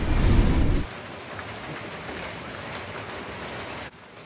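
Heavy unseasonal April rain pours down in a constant hiss, opening with a brief louder low rumble before settling into an even, dense downpour with no talking.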